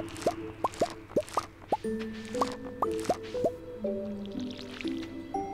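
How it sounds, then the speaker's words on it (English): Watering crops with a watering can in Stardew Valley: a rapid series of bright, plinking water drops and plops rising in pitch, followed by overlapping watery tones, clear and close with no talking. "Did not mean to water right there."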